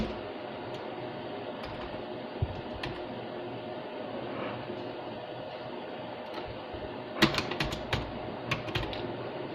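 Typing on a computer keyboard while entering headings into Excel cells: soft, scattered key taps at first, then a quick close cluster of clicks near the end, all fairly quiet.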